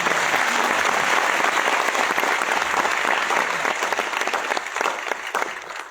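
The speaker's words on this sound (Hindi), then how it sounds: "जोरदार तालियां हो जाए आप लोग।" A packed hall at Mahanayak Uttam Manch erupts in loud, dense applause that holds strong for several seconds and then eases slightly toward the end.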